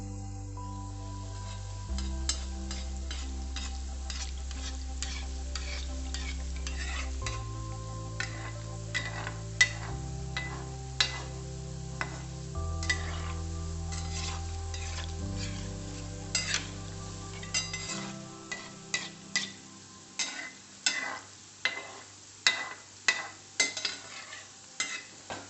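Dal fries in a pan and is stirred, a steady soft sizzle under background music, with sharper scraping stir strokes growing louder toward the end.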